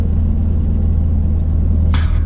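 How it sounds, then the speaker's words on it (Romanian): A heavy truck with a manual gearbox runs with its retarder engaged, giving a steady loud low rumble and drone throughout, with a brief hiss near the end. "Retarderul înclanșat"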